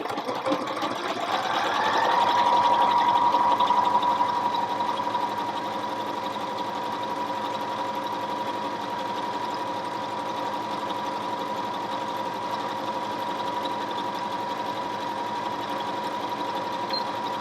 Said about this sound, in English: We're going to touch the start-stop button.